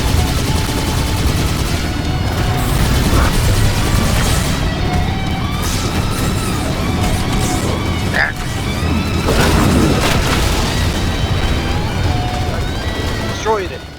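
Continuous, dense Halo 2 battle noise: steady gunfire and booming impacts, with a sharp explosive burst where a tank is destroyed partway through, at a loud, even level throughout.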